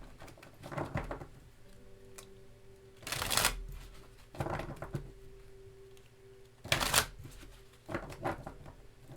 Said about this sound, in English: So I'm going to pull 3 cards and see what the messages are here.